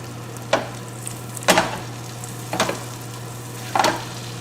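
Garlic sitting in butter in a pan for lamb chops sizzles with a steady low hiss, broken by four short scraping stirs spaced about a second apart.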